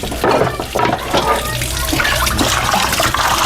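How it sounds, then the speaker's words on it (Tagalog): Raw pork is rinsed under a running kitchen tap, the steady splash of water filling the whole stretch at close range, with no one talking over it. "Tapos, iwawash ko siya ulit ng running water."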